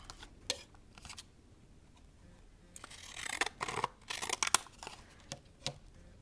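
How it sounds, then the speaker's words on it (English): Scissors make quiet, close, intermittent snips and paper rustles while a paper card is trimmed around its edges, with a denser run of cuts in the middle. "No time flat, you'll have this card trimmed right down to the size you want."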